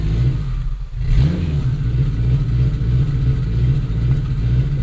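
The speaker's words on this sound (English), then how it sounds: "who the hell is that loud ass car" A loud, straight-piped, turbocharged 800 hp AWD 2002 Acura RSX Type-S accelerates hard close by, its engine droning low and strong with a rising rev after a brief dip, heard alone.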